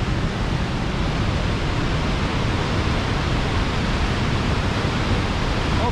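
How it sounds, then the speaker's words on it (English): A waterfall roars in a steady, dense broadband rush near a cliff summit, loud and unbroken, with no voices. "see if we can catch the waterfall a little better"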